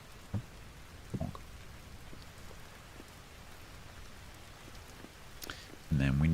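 Steady rain falls in the Vintage Story survival game, a soft continuous patter with a few brief clicks and knocks, before a louder sound rises at the end.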